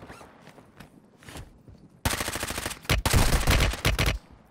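Rapid bursts of automatic gunfire from Warzone Mobile, a mobile battle royale shooter, start as faint distant shots and then break into loud, close, sustained volleys with brief gaps between them.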